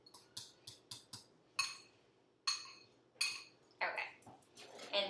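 Spoon scraping and clinking against a bowl while stirring garlic into sweet potato mash, a series of close, sharp taps and scrapes in an irregular rhythm over near silence.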